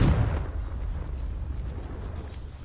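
Confringo blasting spell detonating in the video game Hogwarts Legacy: a single loud, deep boom at the start that rolls off into a long, low rumbling decay, with no voices over it.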